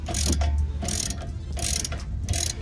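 A hand ratchet clicks rapidly while loosening Loctite-secured bolts on the rear wheel hub of a 2005-11 Ford Focus, a loud, close, continuous metallic clatter with no voices.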